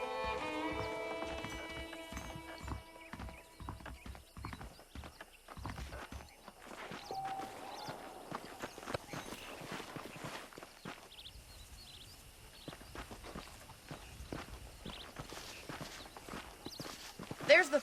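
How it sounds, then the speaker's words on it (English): Horse hooves clip-clopping in the video game Red Dead Redemption, a steady walking rhythm of hoof beats running under game dialogue and music, with spoken voices throughout. "The horses are saddled up over here."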